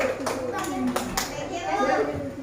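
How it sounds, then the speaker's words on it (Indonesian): Children in a third-grade classroom clap together, a loose patter of small hands under a voice and a teacher's talk. "Tepuk tangan"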